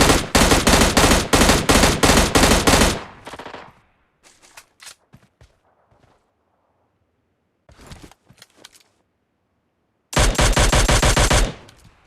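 Loud rapid bursts of automatic gunfire in the mobile game PUBG Mobile Lite, two long sustained volleys separated by a quieter stretch of scattered single shots and short bursts.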